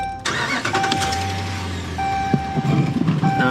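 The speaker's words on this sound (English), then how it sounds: "Let me fire the truck up and see if it pops anything." A pickup truck used for towing cranks and fires up, the engine catching with a rough rumble and settling into a close, steady idle, with a sustained electronic chime beeping over it.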